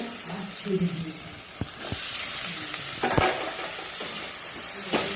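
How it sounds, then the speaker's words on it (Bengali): Boiled figs being stir-fried in a pan for a vegetarian fig curry, giving a steady sizzle with scraping and stirring clatter, a few sharp knocks against the pan, and faint background voice. "এবার সিদ্ধ করা ডুমুরগুলোকে দিয়ে ভালো করে কষিয়ে নেব"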